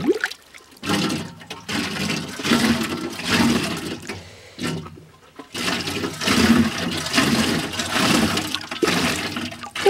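A toilet plugged with mercury in the bowl flushes in several surging bursts of rushing, gurgling water, close and loud, separated by short pauses.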